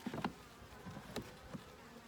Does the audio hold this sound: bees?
yes